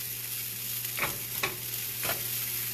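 A roux cooking in a pan with milk being added, heard as a steady close sizzle with three short scraping stir strokes spaced about half a second apart.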